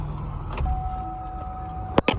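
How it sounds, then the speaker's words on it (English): A car's power window motor hums briefly as the glass is raised, followed by a couple of sharp clicks or thumps near the end. "Now I'm going to let the window up."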